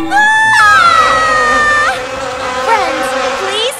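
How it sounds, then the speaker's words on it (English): A cartoon mosquito drones in a high, wavering whine that glides in pitch, loud and close, over a soft noisy background. "The mosquito is chasing us!"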